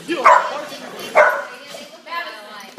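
A dog barks twice, sharp and close, about a second apart, followed by a person speaking briefly.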